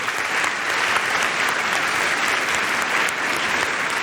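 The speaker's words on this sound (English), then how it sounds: "Please stand up, wave your hands, and applaud again." At the Falling Walls Conference 2019, a large audience claps in a sustained, even wave of applause that fills the hall for the full few seconds. No talking is heard.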